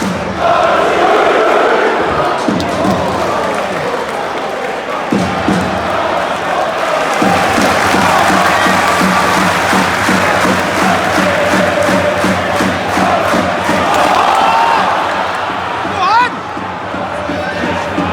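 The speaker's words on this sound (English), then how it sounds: "Doing a little bit of a crowd shot because the Corbin chants have not stopped" Football fans chant persistently at a West Brom versus Huddersfield match, the Baggies home crowd in blue and white stripes roaring a sustained, rhythmic chant that fills the stadium with loud, dense crowd noise throughout.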